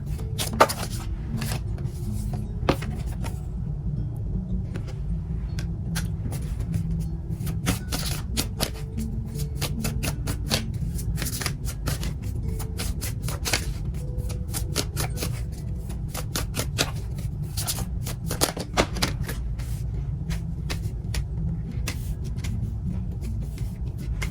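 Tarot cards are shuffled and handled for a reading, giving a continuous run of rustling, flicking and tapping card sounds over a steady low background hum, close and moderately loud throughout.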